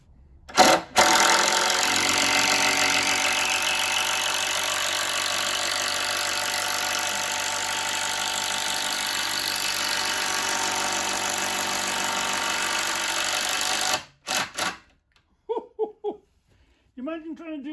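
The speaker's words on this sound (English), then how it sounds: "These drill things." A power drill drives pins into wooden shelves in one long, loud, steady whir of about thirteen seconds, stopping abruptly, followed by a few short bursts and faint voices.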